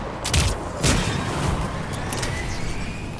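An enemy-held mounted gun in the Mass Effect 3 video game fires a couple of heavy, booming shots early on. A steady low battle rumble hangs underneath.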